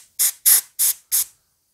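Oil sprays out of a fouled 8-foot grease adapter hose in four sharp, evenly spaced hissing bursts, each about a quarter second long and loud and close, with silence between them.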